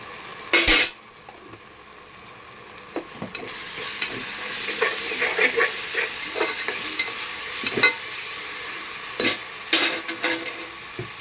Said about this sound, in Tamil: நல்லா வெங்காயம் கோல்டன் கலரில் வேகணும் இந்த பாருங்க இப்போ இஞ்சி பூண்டு பேஸ்ட் போட்டுக்கோ